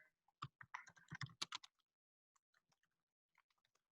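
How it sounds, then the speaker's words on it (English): Rapid computer keyboard typing, a close flurry of crisp key clicks in the first two seconds, then sparse, fainter taps trailing off, with no voice. "I'm typing up something real quick so you guys can share it."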